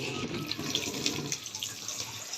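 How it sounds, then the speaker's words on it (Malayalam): Tap water runs steadily while a container is being filled, a close, continuous splashing hiss that stays even throughout with no voices. "നമ്മൾ ടാപ്പ് ഓഫ് ആക്കി വേറൊരു രീതിയിൽ നമ്മൾ വെള്ളം ഫില്ല് ചെയ്യാനായിട്ട് പോവാണ്"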